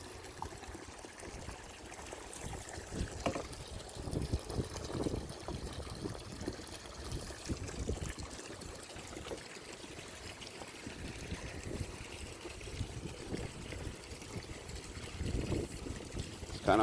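A small pool vacuum sucks up water and sand in a steady, gurgling trickle and slosh, faint and continuous with irregular splashy bursts.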